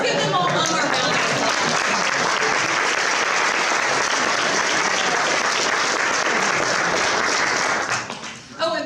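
Dense, sustained audience applause for park volunteers at a park department honors event, loud and steady for about eight seconds before tapering near the end.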